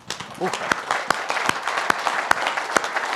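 A church congregation claps together in a sustained round of applause, the individual claps loud and close and running through the whole stretch, while someone speaks over it.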